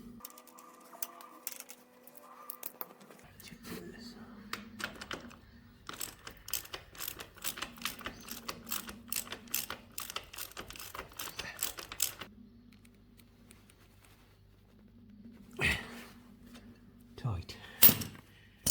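A nut is tightened onto a bolt on a Yamaha TTR250 trail bike, heard as quiet bursts of rapid ratchet-like clicking with a few sharper knocks near the end.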